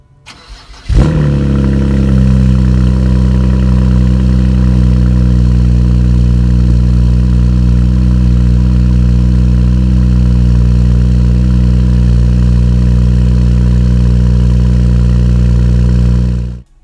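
A BMW with an N54/N55 engine cranks and fires up, then settles into a loud, steady, deep idle that drones evenly for about fifteen seconds before cutting off.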